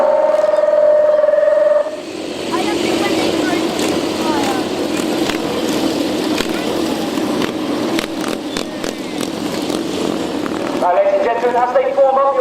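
Motorcycle engines drone and rev through a loud arena display ride, a broad rumbling roar under crowd and public-address noise, with a brief tonal sound at the start and end.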